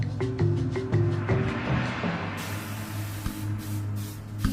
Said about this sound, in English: They sprayed grandfather's room and his body with chlorine to destroy the Ebola germs.